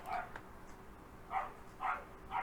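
Dogs barking outside an apartment block, several short distant barks in an uneven rhythm, faint against quiet background hum.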